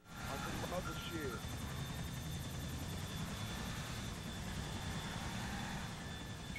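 Steady whirring rotor noise of a helicopter in the video game GTA IV multiplayer, continuous and fairly loud, with a brief voice near the start.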